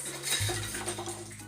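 Small dishes and utensils clink and rattle close by in a quick burst, like a child handling toy kitchenware.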